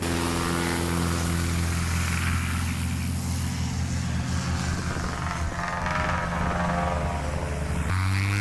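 A Cessna 180 propeller plane takes off during a Heritage STOL race, its engine a loud, steady droning roar with a slight shift in pitch near the end and no talk over it.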